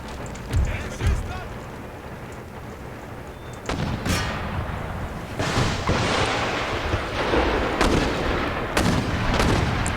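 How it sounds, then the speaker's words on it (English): Mortar artillery in the Empire Total War siege of Madrid fires repeatedly, giving booming thuds and crackling gunfire over a continuous battlefield rumble, loud and dense throughout. "these mortars doing a fairly significant amount of damage to the enemy"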